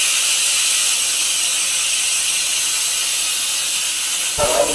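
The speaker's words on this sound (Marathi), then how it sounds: "इकडे कुकरमध्ये मी चिकन शिजायला ठेवलं आहे म्हणून शिटीचा आवाज येतोय" A pressure cooker with chicken inside lets off a steady, loud, close hiss of escaping steam that runs unbroken for several seconds before a brief clatter near the end.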